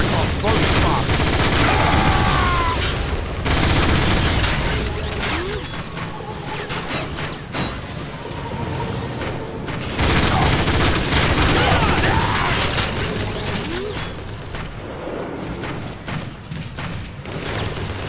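Sustained gunfire and booms from a Transformers video game battle, dense volleys and bursts of weapon fire throughout, loud and close with occasional voices over it.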